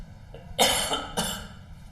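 Two sharp coughs close to the mic, the first strong and followed by a smaller rasp, then a second cough after a brief pause.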